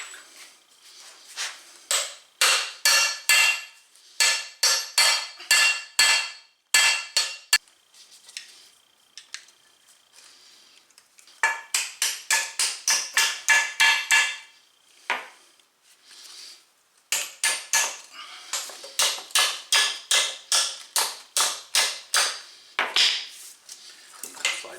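A screwdriver is hammered behind a snap ring on a Mercedes W210 E320 front suspension, giving bursts of rapid, sharp metallic strikes in quick runs separated by short pauses, close and fairly loud.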